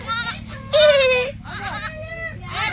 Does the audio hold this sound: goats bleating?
yes